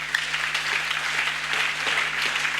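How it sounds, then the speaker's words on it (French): A congregation at a Sunday church service applauds in a steady, dense wash of clapping that fills the room throughout, with a low electrical hum beneath. "Applaudissez encore."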